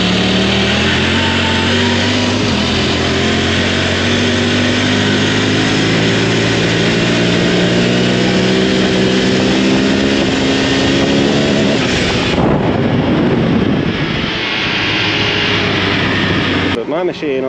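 A Honda Talon 1000R side-by-side on 33-inch tires accelerates in low gear, its engine loud and close, rising steadily in pitch under heavy wind roar, then letting off near the end.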